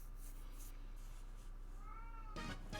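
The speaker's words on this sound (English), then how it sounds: "Sorry if you guys hear my cat." A pet cat meows indoors during a late-night Mario Kart 8 Deluxe gaming stream, a short nearby cry near the end over a low background hum and faint game sound.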